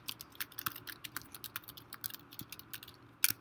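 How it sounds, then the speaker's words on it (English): Fingers type an email address on a computer keyboard at a login page, giving a quick, uneven patter of close, light key clicks that ends in a slightly louder final press. "You type in your email address."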